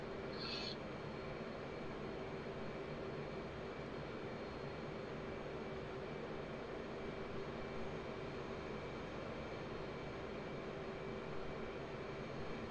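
Jet engine noise from an F/A-18C in the DCS World flight simulator, a steady broadband roar with a faint whine holding throughout as power is added during a low turn near a carrier.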